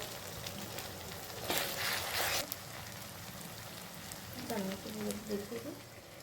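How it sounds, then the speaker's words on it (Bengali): Garlic being stirred and fried in a pan for a bhetki fish-bone chorchori, with a steady crackling sizzle, a louder burst of frying partway through, and faint voice-like murmurs toward the end. "রসুন দিয়ে 4 থেকে 5 মিনিট আমি ভালোভাবে নাড়াচাড়া করে নিয়ে"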